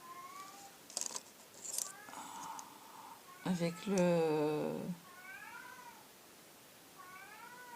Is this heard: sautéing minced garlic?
no